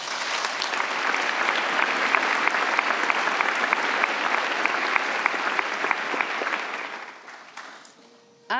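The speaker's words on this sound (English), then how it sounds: "I think they deserve a big round of applause." A graduation ceremony audience gives sustained applause, a thick steady roar of many hands that holds for about seven seconds, then dies away quickly, with a sharp sound right at the end.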